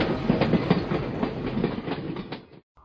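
A train runs on rails with a loud, steady rumble and rhythmic clickety-clack of wheels, close by, ending abruptly.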